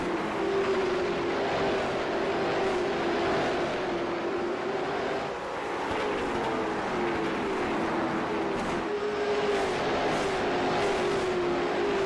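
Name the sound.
late model stock race cars racing at Thompson racetrack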